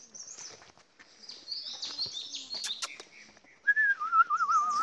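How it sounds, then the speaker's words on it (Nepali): Birds chirp and whistle in a forest along the Lwang Pothana trek, with scattered faint calls that swell into a clearer, nearer whistling song toward the end. "चराचुरुङ्गीको आवाज तिलपिल तिलपिल पात हल्लिएको साथमा"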